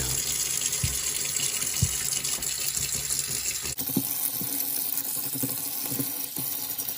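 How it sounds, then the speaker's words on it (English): Cold tap water runs steadily into a sink while a paintbrush is rinsed and bent under the stream, giving a constant splashing gush with small shifts and a brief change in flow midway. "Use cold water when rinsing and really bend the brush,"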